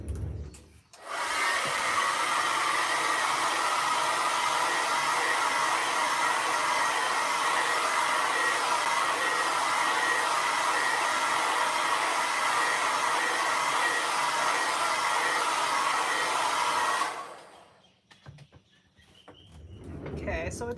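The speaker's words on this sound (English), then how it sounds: "And I will go ahead and dry this layer real quick with my hair dryer." A hair dryer blows steadily on a watercolor painting for about sixteen seconds, loud and close, a constant broadband whoosh that switches on and off abruptly.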